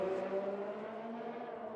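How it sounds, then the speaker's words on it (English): Race car engines from a sim racing game broadcast in the Netherlands round, a steady high droning whine with layered tones that ease slightly lower as cars pass, continuous and fairly loud throughout. "We'll let you guys enjoy the sounds of the engines."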